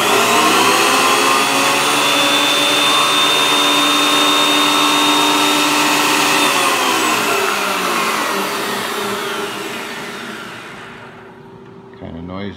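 A 20-year-old Ridgid TP1300LS thickness planer is fired up and runs with no wood fed through, a loud, dense, close-up roaring whine that holds steady, then fades and winds down near the end.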